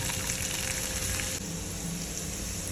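Mustard seeds, cumin, asafoetida and garlic fry in hot oil for a Gujarati leftover-roti curry. The crackling sizzle is loud, dense and continuous, with nothing else heard over it.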